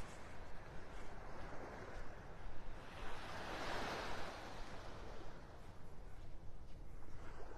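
Ocean waves washing onto a beach in North Naples, Florida on a summer morning, a steady surf roar swelling into one louder breaking wave near the middle, with wind buffeting the microphone and no talk.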